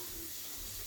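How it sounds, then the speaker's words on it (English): Running water rinses raw strip steak, a steady close hiss and splash of flowing tap water, brief and continuous. "Always good to rinse the meat off and take any"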